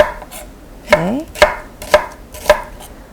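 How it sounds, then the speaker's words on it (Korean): An onion is minced with a kitchen knife on a cutting board: four or five sharp, close chops land at an unhurried, even pace, with quiet pauses between strikes and no talking. "양파는 다져주시면 돼요."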